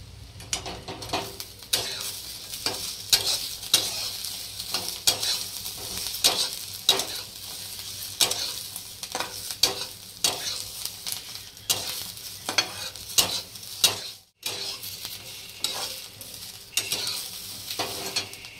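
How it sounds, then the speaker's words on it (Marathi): Garlic frying with onions in a pan for a Marathi surmai fish curry, with steady close sizzling and repeated scraping strokes of a spoon stirring the pan, no talking. "आता हा लसूण टाकून घेते मी त्यातच, हा सुद्धा हलवून घेऊया आपण"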